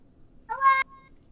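A house cat gives a single short, clear meow close by, rising briefly and then cutting off, against a quiet room background.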